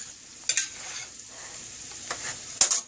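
Homemade Mexican rice being stirred in a pan, a low sizzle broken by sharp scraping strokes of the spoon near the start and end, close up with no talking.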